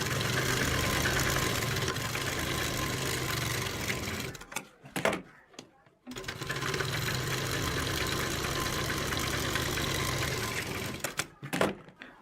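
A sewing machine stitches a seam on an Afghani salwar, running in two long steady bursts of fast, close mechanical whirring, each ending in short clicks and a pause.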